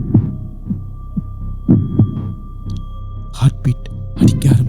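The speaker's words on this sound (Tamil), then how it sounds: "ஹார்ட் பீட் அடிக்க ஆரம்பிச்சிருச்சு" A heartbeat sound effect throbs in slow, repeated low thumps under a steady hum, with a voice speaking over the later beats.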